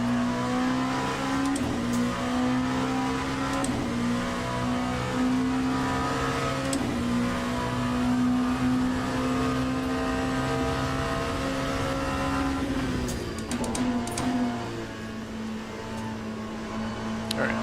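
A race car engine in a racing video game holds a loud, steady buzzing drone as the car warms its tires, with brief dips and rises in pitch at gear changes, continuous and close, with no talking.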